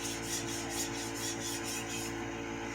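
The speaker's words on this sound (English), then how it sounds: "One more sharpening pass on this side" A Yoshikazu Tanaka 240mm Blue 1 gyuto being sharpened: a steady, close rasping rub of the thin steel blade across a stone in even back-and-forth strokes, continuous and fairly loud with no talking.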